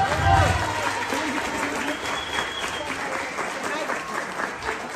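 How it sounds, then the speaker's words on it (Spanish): A crowd applauds the birthday guest at a Mexican family night party, a loud burst of clapping that carries on steadily, with voices talking over it. "Un aplauso grande para tu festejado,"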